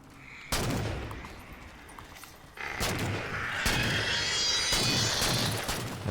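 Gunfire in the Halo 4 video game, with loud sustained bursts of shots and booming impacts, a brief lull, then heavier continuous firing with a sharp energy whine.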